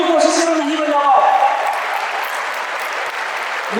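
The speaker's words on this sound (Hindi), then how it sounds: "स्टार्ट करके ए जोर से तालियां बजाएगा, जोर से तालियां बजाए" A crowd at a motivational seminar claps loudly in a dense, sustained burst of applause, with some voices mixed in at the start.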